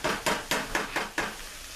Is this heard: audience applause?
no